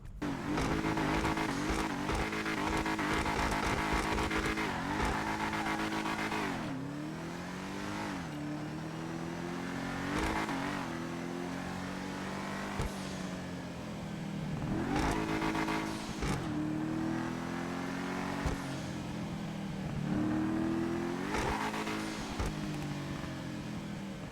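A sports car engine in GTA Online revs hard and repeatedly, rising and falling in pitch with sharp pops and crackles between throttle bursts, loud and close.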